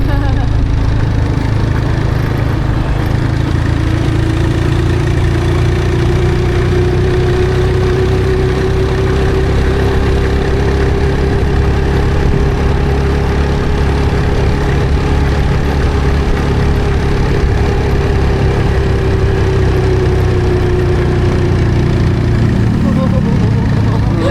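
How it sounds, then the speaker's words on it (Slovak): Motorcycle engine in Pattaya, Thailand, labouring under the weight of three riders, a steady mid-pitched drone with a slowly rising and falling tone, loud and close throughout alongside road noise. "Motorka nevládze, bo traja sme na nej."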